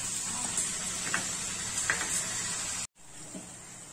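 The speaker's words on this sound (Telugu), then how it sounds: "ఇదండి ఉల్లిపాయలు బాగా వేగాయి." Onions fry in a pan with curry leaves while cooking a fish curry, giving a steady loud hiss with faint stirring clicks, briefly cut off near the end before the sizzle resumes.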